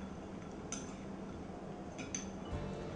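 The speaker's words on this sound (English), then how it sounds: "And then you just going to mix it." Utensils stir and mix a sweet potato dish in a bowl, with a couple of light metallic clinks over a steady low background hum.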